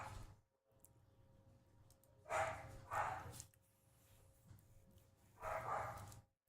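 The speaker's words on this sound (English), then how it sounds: "Sounds like the ladies' home because Burgle's barking." A dog barks a few times at a distance, in two short bursts separated by a quiet stretch, with faint background hum.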